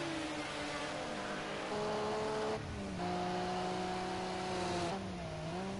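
Race cars speed across the finish line at Oulton Park, engines droning loud and close with pitch shifts as gears change, one car fading before another roars through.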